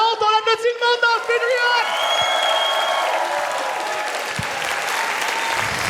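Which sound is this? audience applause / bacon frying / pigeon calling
audience applause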